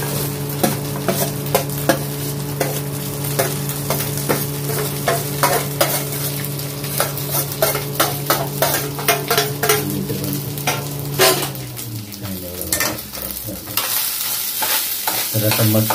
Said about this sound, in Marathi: तर आता मस्त भात परतवतोय.